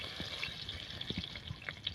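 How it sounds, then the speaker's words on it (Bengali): Dry red chillies and bay leaves crackle and sizzle in hot oil in a home kitchen while a chicken curry is being made, giving a steady soft frying hiss with scattered small pops, close and fairly quiet, with no talking. "আবার তেল দিয়ে দিচ্ছি শুকনো লঙ্কা তেজপাতা"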